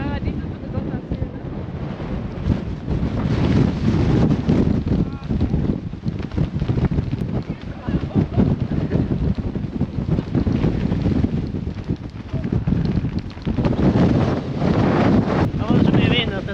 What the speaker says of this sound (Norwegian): Det var så mye vind at jeg tør faen ikke å stå.